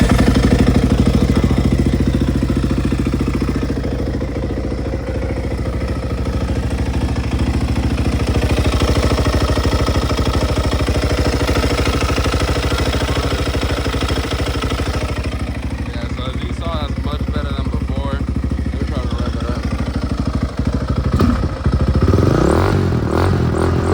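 A cold Yamaha Raptor 660 ATV with Chinese carburetors runs loud and close as a steady, throbbing single-cylinder idle that goes on throughout, with some clattering and a few brief bumps near the end.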